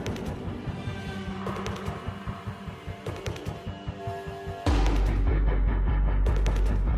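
Gunfire from the Call of Duty Modern Warfare 4 video game plays as rapid, loud shots in a steady burst, followed by a heavy rumbling boom and dense continuous firing.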